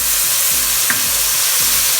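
Ginger garlic paste frying with golden-browned onions in a pan, a loud steady sizzle with rhythmic scraping strokes of a spoon stirring, repeating several times over the short stretch.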